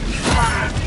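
A weapon reload in Helldivers 2: a quick mechanical clack and creak of the magazine and action, close and brief under battle noise.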